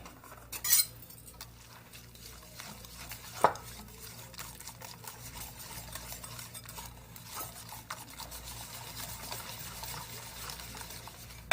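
Chicken being mixed by hand in a bowl with white pepper, black pepper and garam masala, soft wet rubbing and squelching, faint and close, with a couple of sharp clinks of the bowl.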